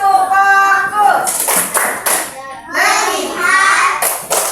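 A classroom of children doing a rhythmic chant-and-clap routine, with sharp, near claps falling in time with their loud sung voices and a teacher speaking.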